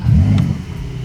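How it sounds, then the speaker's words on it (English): A 2021 Porsche 911 Turbo S fires up with a brief loud burst of engine noise that settles quickly into a steady low idle rumble over about one second. "let's buckle up, start her up"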